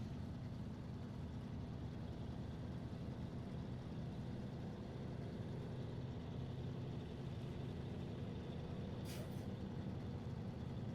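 A truck engine in the Snowrunner game drones as a steady, dense rumble throughout, with a brief hiss partway through and no talking.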